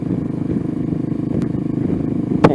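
A Venom Ghost 250 motorcycle runs with a steady, throaty engine and exhaust drone close by, holding an even note before a short sharp blip near the end.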